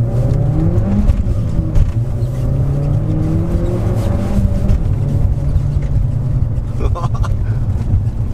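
A Vauxhall Astra VXR front-wheel-drive sports hatch pulls along the road, its engine revving up through rising harmonics and then holding a steady drone, with close cabin rumble and a person talking over it.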